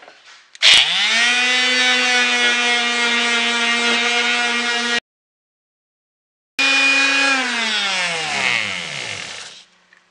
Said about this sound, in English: I'm going to take my sander and I'm going to try and reduce some of this volume on the handle